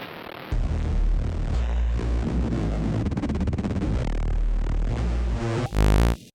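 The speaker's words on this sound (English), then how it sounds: "There was a little Reese thing in here that I thought was kind of nice." A Reese bass sample from an electronic music production project: a thick, loud, continuous detuned bass drone with a gritty upper texture that throbs for several seconds, ending in a brief burst of bright noise.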